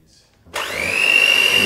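An electric blender whirs into life after a short silence, mixing buckwheat pancake batter with agave syrup, its close, steady motor tone rising slightly in pitch.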